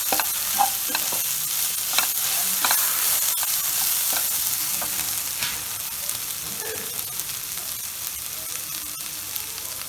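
Ground coriander, chilli powder and garam masala sautéing in a hot pan for Kerala beef roast, a continuous close sizzle with scraping stirs and clicks of a spoon, no voices.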